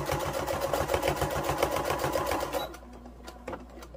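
A sewing machine runs in a fast, steady rhythm while stitching fabric for a stuffed moose, then stops partway through, leaving a few faint clicks and handling sounds.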